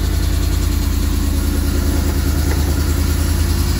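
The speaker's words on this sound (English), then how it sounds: "fire it up." An Entegra 25R motorhome engine idles steadily after starting, a close, constant low rumble with an even throb and no revving or talk.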